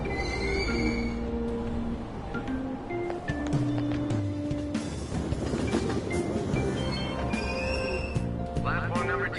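A train departs a station platform at Aoyama Itchome on the Tokyo subway, with a continuous loud rumble, rising motor whine and clattering wheels, while announcements and voices carry over the noise.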